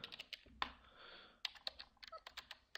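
Close, quiet typing of code on a computer keyboard, with irregular runs of soft key clicks and short pauses between bursts.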